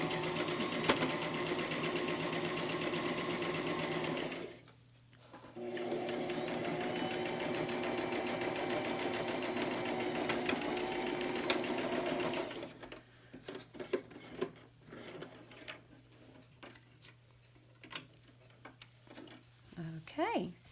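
A sewing machine stitches in a rapid, steady whir, pauses briefly, runs again, then stops as the bobbin runs out, leaving quiet handling clicks. A person talks over part of it.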